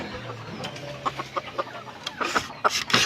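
Pet labuyo junglefowl cluck in short, scattered bursts, with the calls growing busier and a little louder toward the end over a quiet background.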